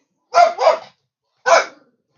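A dog barks nearby in a control room, two quick barks followed by a pause and then a third single bark, loud against an otherwise quiet background.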